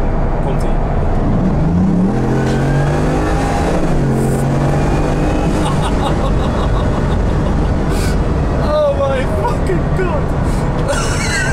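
A Bugatti Veyron at full throttle fills the clip with a loud, close, steady engine roar that climbs in pitch through the gears, with voices talking over it inside the cabin.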